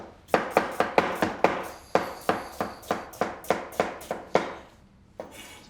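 A knife slices vegetables on a cutting board for fish stock, a crisp run of about fourteen evenly spaced chops close up, a short pause partway through, then quieter scraping at the end.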